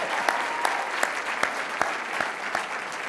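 An audience at a school district awards event claps steadily, a dense wash of many hands with a few sharper individual claps standing out, loud and continuous throughout.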